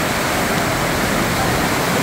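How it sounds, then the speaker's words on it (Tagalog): Heavy rain pouring down during a storm at night, a dense, loud, continuous broadband hiss and roar with no breaks, close and steady across the whole stretch. "Grabe ang ulan po."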